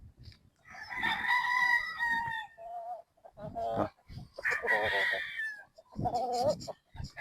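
Game farm roosters crowing in several long, loud calls, with clucking between them, close by and clear.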